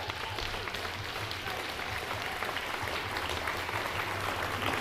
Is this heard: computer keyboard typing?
no